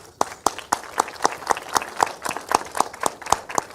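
An audience applauding at a panel session on sound documentaries, rhythmic, fairly sparse claps in near-unison at a steady pace, close and clear for a few seconds.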